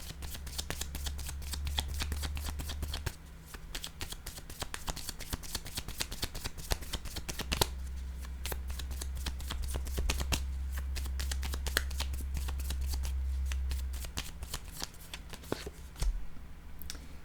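Playing cards shuffled repeatedly during a tarot-style card reading, a rapid run of crisp riffling clicks and snaps lasting throughout, close and fairly loud, with no talking over it.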